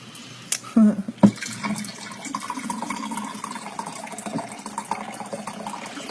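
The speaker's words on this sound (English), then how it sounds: "Pour a little bit of my coffee." Coffee is poured into a cup up close, a short liquid pouring sound with a couple of sharp clinks, followed by soft room noise with faint talk.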